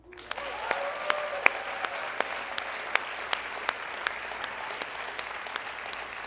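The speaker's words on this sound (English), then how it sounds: "Can we just applaud them all?" A large audience at a TEDx event at Grand Canyon University applauds six speakers and two performers, a steady, dense wash of clapping with occasional sharper claps and a whistle near the start, no speech.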